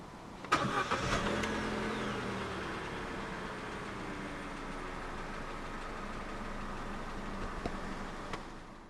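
A 2014 Vauxhall Corsa 1.2i 16v VVT three-door with a five-speed manual starts up nearby: a brief cranking whir catches into a quick rev, then settles into a smooth, steady idle that continues to the end.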